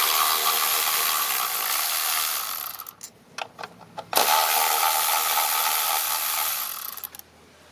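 Ratchet with a 10 mm socket turning the bolt on a spark plug of a 2012 Kia Sportage, a steady close mechanical rasp of clicking that pauses in short bursts mid-way, then resumes continuously.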